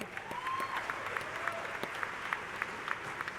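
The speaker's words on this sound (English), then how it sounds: "Give him a round of applause" Applause from a commencement audience for a graduate at a spring university ceremony, a steady wash of many hands clapping with sharper individual claps standing out, moderately loud in a large hall.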